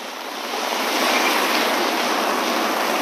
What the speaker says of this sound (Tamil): நல்ல ஒரு மழை பெய்யுது